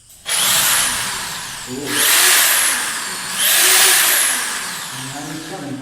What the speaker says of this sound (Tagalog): Gumagana naman yung drill natin